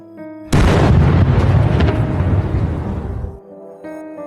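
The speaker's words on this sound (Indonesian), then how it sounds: "Sebuah ledakan terjadi sampai menimbulkan api." A sudden loud explosion that bursts into fire, a sharp blast followed by a roaring, crackling tail that fades after about three seconds, set against soft background music.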